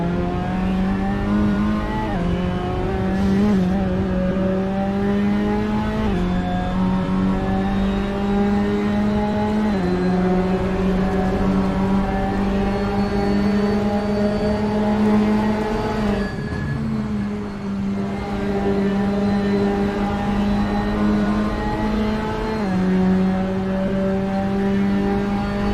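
BTCC touring car engines drone loudly in a racing video game at Silverstone's 2005 International layout as cars warm up, with steady revving and repeated pitch drops at upshifts and a dense, continuous engine note throughout.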